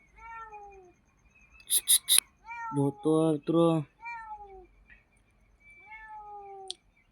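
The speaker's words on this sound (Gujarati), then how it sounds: "મીંદડી" A cat meows several times outdoors in the evening, a couple of drawn-out calls near the start and a louder clustered run in the middle, with someone speaking briefly between them.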